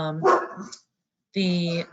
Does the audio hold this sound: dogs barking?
yes